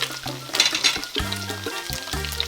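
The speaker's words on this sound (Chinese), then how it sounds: "锅底留少量的油，然后加入葱和干辣椒" Scallions and dried chilies sizzle in a thin layer of hot oil left in a wok after frying garlic pork ribs, a close, steady crackling hiss with a few stirring clinks and no talk.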